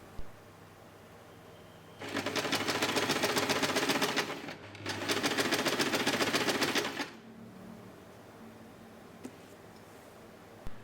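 A sewing machine stitches a label onto pocket fabric in two fast, buzzing bursts of about two and a half seconds each, separated by a short pause, with quiet room tone before and after.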